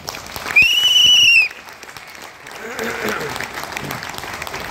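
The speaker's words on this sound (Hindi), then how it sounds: "तो एक बार फिर से अपने लिए तालियां" Audience applause at a company recognition night, a steady patter of clapping that swells after a brief high whistling tone and carries on at moderate level to the end.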